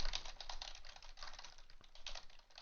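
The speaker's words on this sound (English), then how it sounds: "I'll just be typing as I'm going" Rapid typing clatters on a computer keyboard, a dense stream of light key clicks at a busy, uneven rhythm that is close-miked and fairly quiet, with no voice.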